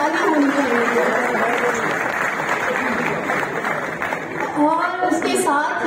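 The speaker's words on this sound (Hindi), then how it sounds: "मैं चाहूंगी वो भी स्टेज पर तशरीफ लाएं, उनकी तालियां होनी चाहिए।" Audience applause fills a hall at a classical music festival at Alhamra Hall in Lahore, steady and dense throughout, with a voice talking over it and rising again near the end.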